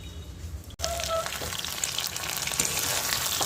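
Small mourala fish sizzle steadily in hot oil, a dense continuous crackle and hiss that briefly cuts out before resuming.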